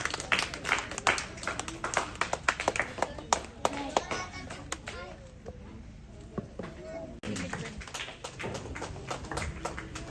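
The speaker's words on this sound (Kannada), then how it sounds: "ಮತ್ತೊಮ್ಮೆ ಜೋರಾದ ಚಪ್ಪಾಳೆಯಾಗಿದೆ" An audience claps and applauds at a government primary school event in Kolar, a lively burst of hand claps that fades midway and picks up again, with voices speaking around it.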